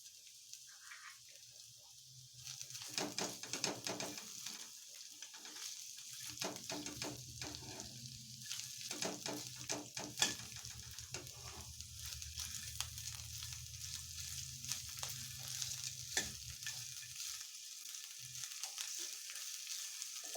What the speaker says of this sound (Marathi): तो कांदा परतायसाठी घालायचा आहे कढईमध्ये